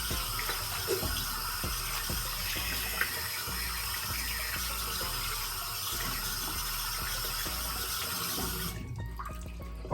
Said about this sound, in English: I'm gonna clean my hands real quick.